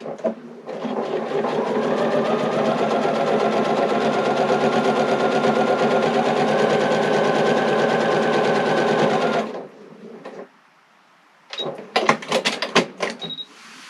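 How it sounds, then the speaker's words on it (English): A sewing machine stitches a quilt with red Aurifil thread in one long, steady, rapid hum of needle strokes for several seconds, then stops, followed by a quiet pause and a few sharp clicks and rattles of handling. "I make the stitch, I make mine a little bit longer"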